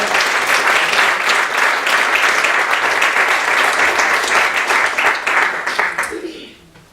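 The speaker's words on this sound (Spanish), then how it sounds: "Den un aplauso al Señor." A church congregation gives sustained applause for the Lord, a dense wash of many hands clapping steadily for about six seconds before fading out.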